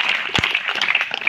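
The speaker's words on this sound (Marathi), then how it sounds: "जोरदार त्यांच्यासाठी एकदा टाळ्या होईल." Applause from the audience at a school event, a short, busy patter of many hands clapping close by, with one low thump early on.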